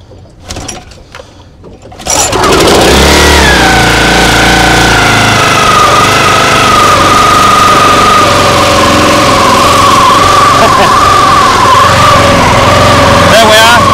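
A small engine cranks and catches after about two seconds of quiet, then runs steadily and loudly to warm up, with a rough idle and a wavering whine on top.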